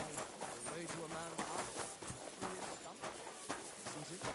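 Horse hooves clip-clopping in Kingdom Come: Deliverance II, a quick, even run of close hoof strikes on the ground, with game voices speaking over them.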